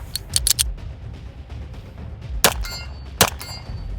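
Several sharp gunshots from a compensated Staccato XC 2011 pistol fitted with an Atlas Gunworks grip, a quick pair early then two isolated cracks later, loud and close over faint background noise.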